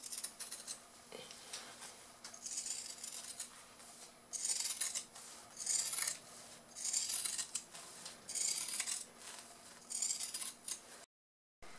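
Scissors snip fabric around the edges of a sewn multi-pocket pouch, working slowly around curves and seams; repeated bursts of crisp cutting come in steady groups, close and clear, with no talk and a brief silence near the end.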